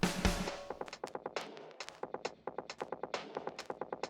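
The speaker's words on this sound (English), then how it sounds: "It helps give like a vinyl sound" A song passed through the iZotope Vinyl plugin for a lo-fi, old-record character, with a rapid, evenly ticking percussive pattern and muffled tone at moderate level.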